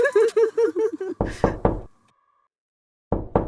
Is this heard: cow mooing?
no